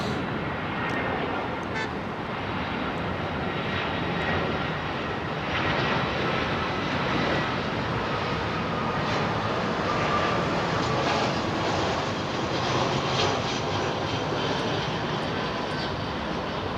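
Boeing 747 freighter jet engines roar steadily on arrival at London Heathrow, a loud, continuous broadband rumble with a faint whine, joined by some wind buffeting on the microphone.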